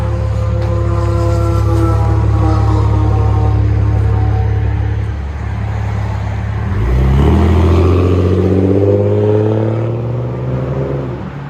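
A 2002 Jeep Grand Cherokee Limited with a 4.0L inline-six and straight-pipe exhaust rumbles loudly at idle, then revs up once in a rising swell before settling back, with no talking.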